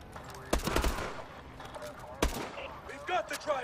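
Gunfire in Call of Duty Advanced Warfare: two sharp bursts of rapid shots, the first around half a second in and the second near the two-second mark, with a brief crackle afterward and game voices faintly underneath.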